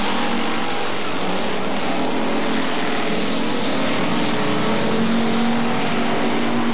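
Race cars roar steadily around a speedway track as they head into a corner, a dense continuous engine drone at a distance, loud and unbroken throughout.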